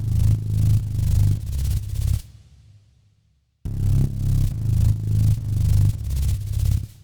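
A heavy, pulsing sub-bass layered with bright hissing white noise plays in rhythmic surges, cuts to a brief fading tail, then resumes.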